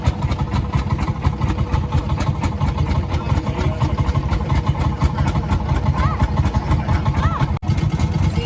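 A roughly 120 to 130 year old tractor engine in Italy chugs steadily nearby in a loud, even, low rumble with a fast repeating beat.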